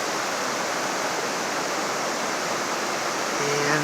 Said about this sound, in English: This is the Snoqualmie River.